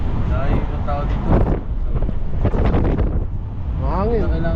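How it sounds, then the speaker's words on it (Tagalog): Strong, steady wind buffets the microphone at a high hilltop overlooking Tagaytay in Batangas, a continuous low roar with people talking over it. "Mahangin."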